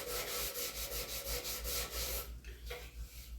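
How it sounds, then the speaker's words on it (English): A Scotch-Brite pad rubs over a finished wooden antique rocking chair in quick, rhythmic back-and-forth strokes, close and scratchy, then slows to a couple of lighter passes at the end. "So I'm going to use a Scotch-Brite that is only used for sanding, and it doesn't take a lot."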